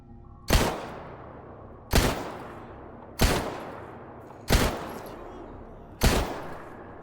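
Five single rifle shots in S.T.A.L.K.E.R. GAMMA, sharp loud cracks spaced about 1.3 seconds apart, each trailing off into a short outdoor echo.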